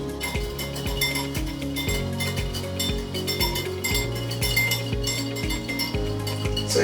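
A whisk clinks quickly and steadily against a bowl, beating wine vinegar and olive oil into a vinaigrette. The metallic taps run close and continuous for the whole stretch, with steady tones underneath and no talking.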